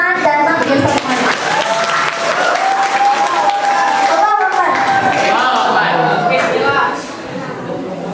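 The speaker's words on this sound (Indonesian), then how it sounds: "Kita kasih tepuk tangan dan panggil semuanya." Applause and clapping fill a school hall for debate participants at Al-Falah Senior. The loud, sustained crowd clapping continues for several seconds, with voices and chatter mixed in, before easing off near the end.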